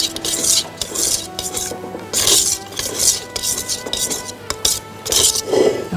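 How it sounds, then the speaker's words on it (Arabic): Chocolate and butter mousse mixture with eggs and sugar, whisked by hand in a bowl: a busy, scraping metallic whisk clatter repeating in bursts, close and moderately loud, with no talk. "الأول بالويسك وبعد كده أقلب بالسباتشولا بالسيليكون."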